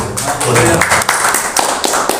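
A church congregation claps at once, a quick crowd patter with sharp taps, while a voice speaks over the applause.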